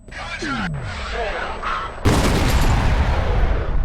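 In the video game F.E.A.R., voices and a descending whistle are followed by a sudden loud grenade blast whose broad roar holds steady to the end.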